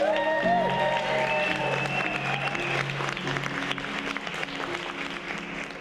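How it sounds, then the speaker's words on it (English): Wedding guests applauding the bride Dani, a steady burst of clapping with some music tones at the start, fading gradually over several seconds. "Please give her a round of applause."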